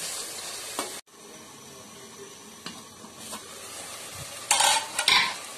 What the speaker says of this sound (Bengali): এখন আমি এর মধ্যে শিং মাছগুলি দিয়ে দেব। এখন মাছটা ভালোভাবে কষিয়ে নেব।